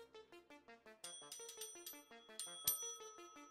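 A bright bell rings alone in a quick run of clear, ringing chimes with a steady rhythm, one louder strike near the end, soft and close.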